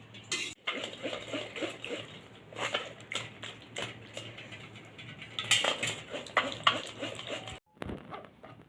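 Raw green mango pulp pressed through a strainer in a kitchen, heard as soft wet scraping and irregular clicks of a spoon against metal mesh, close and fairly quiet with brief pauses.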